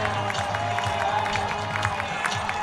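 A baseball crowd cheers steadily after a walk-off Opening Day win for the Oakland Ballers, with a dense, continuous roar and scattered clapping.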